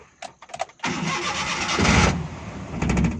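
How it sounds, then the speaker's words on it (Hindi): A Suzuki Bolan with a blown fuse problem cranks with a few clicks, then its engine catches and runs roughly for a couple of seconds before faltering, loud and close. "गाड़ी स्टार्ट होकर बंद हो जाती है।"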